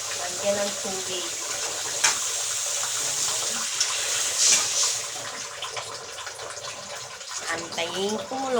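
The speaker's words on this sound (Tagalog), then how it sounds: "Lagyan ng tubig." Water pours from a tap into a cooking pot of sautéed squash, a continuous splashing gush running for several seconds while a voice speaks over it.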